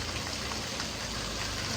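Heavy rain pours down steadily in a dense, unbroken hiss of drops striking surfaces, loud and close for the whole short stretch.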